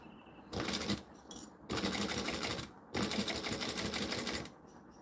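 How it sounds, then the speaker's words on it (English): A sewing machine runs in three rapid bursts of stitching and back stitching at a 4 stitch length, each run a dense whirring rattle separated by short pauses. "I'm going to stitch and back stitch."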